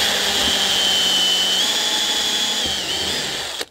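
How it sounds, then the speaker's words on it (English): A power drill bores a hole in a DIY LiFePO4 battery build, a loud, close, steady high whine for about three seconds with slight pitch dips, then spins down quickly at the end. "Drill the first hole"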